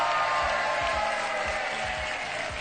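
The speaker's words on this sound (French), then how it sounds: "on se fait vraiment des applaudissements d'émission de jeu" A game show studio audience applauds and cheers steadily, a dense wash of clapping hands that stays loud and continuous throughout with no break.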